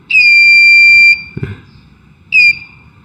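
A multimeter emits a shrill continuity beep while probing a capacitor on a Tenda O3 outdoor router board: one sustained tone of about a second, a small clatter, then a shorter second beep.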